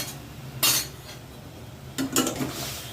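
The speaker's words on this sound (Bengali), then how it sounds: "এবার ঢাকনাটা আমি তুলে নিচ্ছি।" Metal pan lid lifted off a cooking pan over a medium-to-low gas flame: two short clattering clinks of metal on metal, close and fairly quiet, with a soft background hiss between them.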